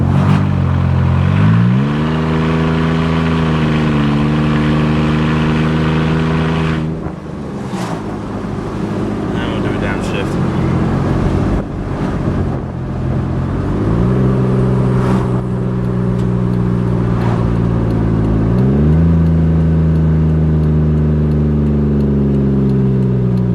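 A 2012 Jeep Wrangler JKU with a 3.6 engine, running with no exhaust and catalytic converters only, roars extremely loud and close, rising and falling through several revving pulls with rough, droning harmonics.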